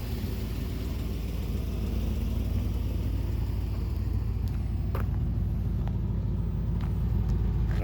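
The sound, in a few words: Mercury Monarch car exhaust note at idle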